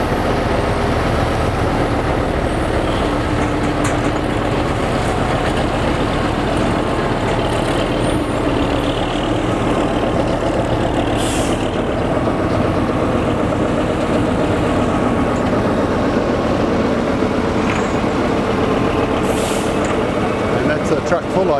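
A heavy truck loaded with about 20 tonnes rumbles continuously nearby, its engine droning loudly throughout with occasional hisses and rattles over the steady low roar.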